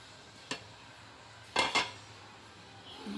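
Pancit noodles and vegetables being mixed in a cooking pan, with a few distinct clanks of utensil against the pan, one short knock followed by a quick double clatter, over a quiet background.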